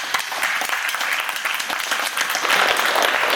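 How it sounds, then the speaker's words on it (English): A wedding rehearsal gathering at Chateau Elan breaks into a round of applause, with dense steady clapping from a group that swells slightly toward the end. "give you a little round of applause right now"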